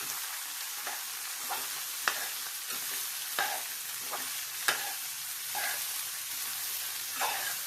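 A utensil scrapes and stirs bottle gourd curry with tempering spices in a sizzling pan, with sharp metallic taps recurring every second or so over a continuous fry.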